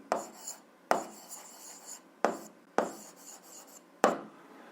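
Close scratching of a pen on paper during an algebra problem, five sharp-onset strokes at irregular intervals, each fading quickly, with no talking over them.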